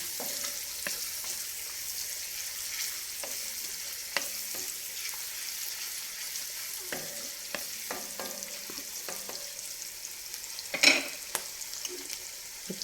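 Freshly cut curry leaves hit hot oil, throwing off a steady frying sizzle with scattered pops and crackles and one sharper, louder burst near the end.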